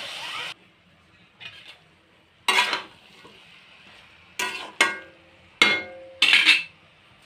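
Cabbage curry with cumin and chilli powder stirred in a pan, heard as close, sharp metallic scrapes and clinks of a spatula against the pan in several separate bursts, with quiet gaps between them.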